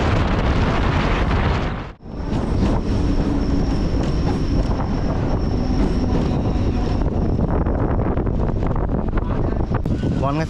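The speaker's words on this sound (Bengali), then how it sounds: "তো চলুন আর ট্রেনের গতিটা একটু দেখে নিই" Passenger train running at speed between Bongaon and Krishnanagar, heard from inside as a loud continuous rumble and rattle with wind rush, briefly dipping once then roaring on steadily.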